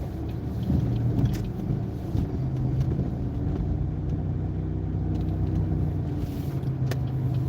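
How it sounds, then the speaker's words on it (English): A car in Michigan rolls slowly through a left turn, giving a steady low engine hum and road rumble with faint wind noise and no sharp events. "Then I'm gonna make a left turn, going really slow."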